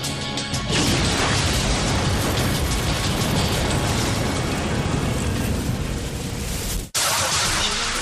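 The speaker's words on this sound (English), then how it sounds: "A bomb explodes outside the Murrah building in Oklahoma City." A homemade bomb exploding outside the steel-reinforced concrete Murrah building in Oklahoma City, a loud sustained roar of blast and crashing debris that cuts off abruptly near the end.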